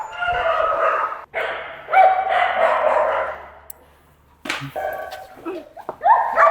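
Shelter dogs bark and yip repeatedly while being walked by volunteers at an animal shelter, a loud, busy run of overlapping barks close by with short pauses between bursts.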